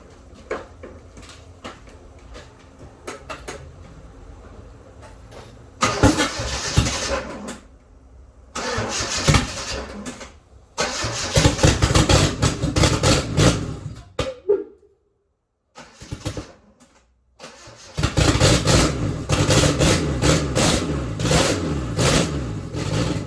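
DSM car engine started for the first time, throttle worked by a length of speaker wire: loud cranking and catching, then rough bursts of revving with abrupt cut-outs and gaps before running on strongly.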